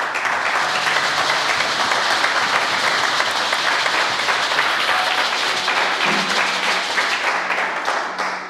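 A church congregation applauds to praise the Lord during a service, a dense, loud, continuous wash of clapping from many hands that carries on without a break from start to finish.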